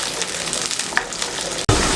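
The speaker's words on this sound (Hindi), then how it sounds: "5 मिनट अच्छे तरीके से हमने आमले को मीडियम फ्लेम पे फ्राई कर लिया" Pieces of amla gooseberry fry in oil over a medium flame, giving a steady, dense crackling sizzle at close range with a few faint stirring scrapes, ending in a brief sharp clatter.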